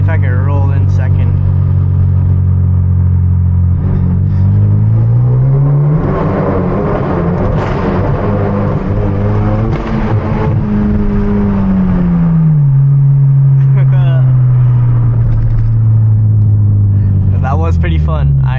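A 300+ horsepower Hyundai Genesis Coupe with an FBO setup accelerates through a tunnel with the windows down, its engine droning and rising steadily in pitch across the gears. The exhaust boom echoes loud and close, and a voice talks over it.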